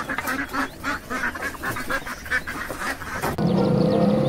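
A goose honks in a quick run of short, nasal calls over a noisy background, fairly close and loud, before a steady hum takes over near the end.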